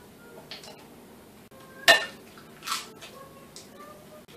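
A spoon stirs cookie dough with vanilla and egg in a bowl, a few soft scrapes and one sharp clink against the side, quiet and close.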